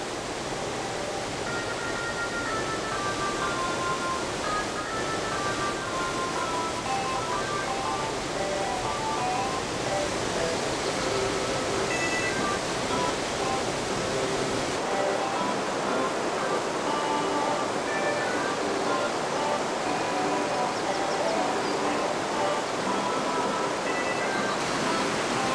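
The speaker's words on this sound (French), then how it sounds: "Regarde, elle déborde en cascade." Water overflowing in a cascade on a mountain stream, a loud, steady broadband rush of falling water that fills the whole stretch without pause, heard up close and alone.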